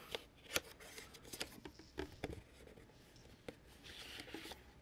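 A small paper envelope from a Lionel train set is handled up close, with soft rustling, light crinkles and a few crisp taps and slides at low level.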